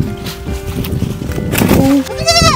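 Goats bleat close by amid outdoor noise and people talking, with a clear wavering bleat rising near the end.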